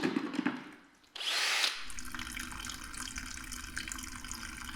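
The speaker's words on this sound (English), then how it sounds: "I'm just going to drill a hole in the bottom and let it drain out naturally" Power drill boring through the floor pan of a BMW M40-engined project car, a short loud whine burst, then a steady wash of water running and trickling out beneath, close by.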